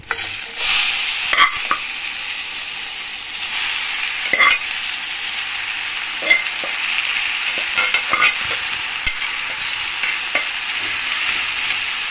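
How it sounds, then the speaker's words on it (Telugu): Boiled moringa leaves and toor dal fry in a hot spiced tempering, giving a continuous loud sizzle with repeated spatula scrapes and stirring knocks, no voices. "తర్వాత మనం ఉడకబెట్టుకున్న మునగాకు, కందిపప్పు వేసుకోవాలి."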